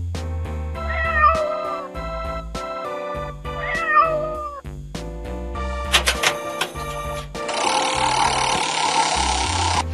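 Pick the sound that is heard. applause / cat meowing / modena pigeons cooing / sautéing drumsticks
cat meowing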